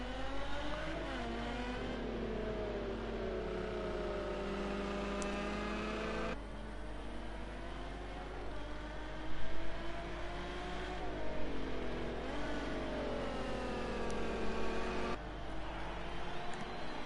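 GT3 race car engines roar in a sim racing game at a Hockenheim series race, their pitch climbing and dropping through repeated gear shifts in a continuous, layered drone.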